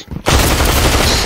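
Rapid automatic P90 gunfire in the video game Population: One, a loud continuous burst starting abruptly after a brief quiet moment and sustaining dense, rattling shots until the end.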